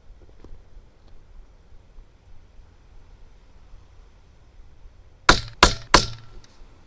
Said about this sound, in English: So I'm going to shoot this group and let it group high